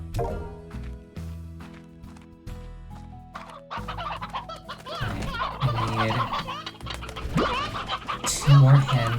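Roosters clucking in the video game Slime Rancher, several birds heard close against soft background game music, their clucks getting busier and louder over nine seconds.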